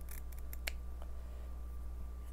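Scissors snipping the lace of a lace front wig, a few quick close cuts near the start, then a quiet steady background.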